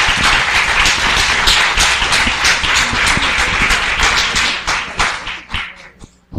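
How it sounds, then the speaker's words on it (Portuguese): Congregation at an evangelical church service claps loudly for Jesus, a thick sustained burst of applause that thins into scattered claps and fades near the end. "Vamos aplaudir Jesus bem forte, vai."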